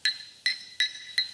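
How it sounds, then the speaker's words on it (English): A coin clinks inside a cup four times in a row, bright ringing taps about a third of a second apart, close and clear with nothing else audible. "That's the sound of a coin in a cup."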